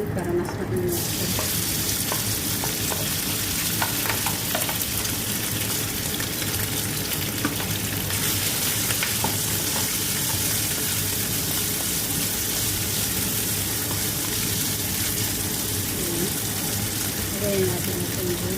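Ground meat hits hot oil with fried garlic and sizzles in a dense, continuous hiss with stirring noises, loud and close throughout; a person speaks faintly under the frying.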